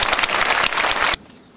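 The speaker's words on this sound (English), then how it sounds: "Let's give her a special round of applause." A round of applause at a school awards ceremony, a crowd clapping loudly and densely for about a second before cutting off abruptly into quiet room tone.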